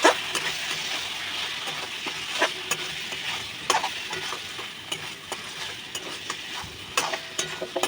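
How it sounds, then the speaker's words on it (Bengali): Spice masala for a loitta (Bombay duck) fish dish stir-fries in oil, giving a close, steady sizzle with repeated scraping spatula strokes and small clinks against the pan, and no talking. "সব কিছু এখানে ভালো করে মিক্সড করে নিয়ে কিন্তু কিছুক্ষণ কষাতে হবে যতক্ষণ না তেলটা ছাড়ছে"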